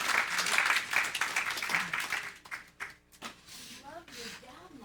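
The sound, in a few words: audience applause after meditation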